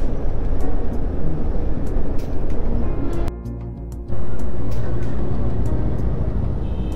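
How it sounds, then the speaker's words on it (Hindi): A dense, continuous roar of city road traffic in Chandigarh, Punjab, heard up close, with a brief lull before the loud rumble returns. "ट्रैफिक"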